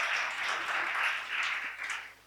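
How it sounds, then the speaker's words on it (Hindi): An audience at a university education discussion breaks into steady applause, a dense wash of clapping held at a moderate level for about two seconds. "उस शिक्षा के लिए बहुत जोरदार ताली होनी चाहिए"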